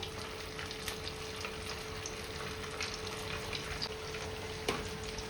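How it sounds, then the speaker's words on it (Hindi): Food frying in hot oil while preparing a traditional Rajasthani family meal, a steady close sizzle with faint crackles throughout and a sharper pop near the end, no talking. "And then we will fry. तड़तड़ आवाज आ रही है।"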